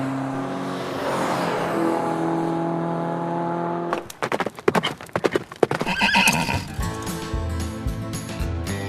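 Horse hooves clip-clopping on the island of Saaremaa, a quick run of close, uneven clatters after a steady rumbling hum, with a whinny-like sound mixed in.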